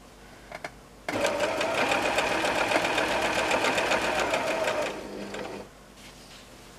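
Sewing machine running steadily for about four seconds as two quilt pieces are stitched together, a fast even mechanical rattle, close and loud, then a softer slowing whir as it stops.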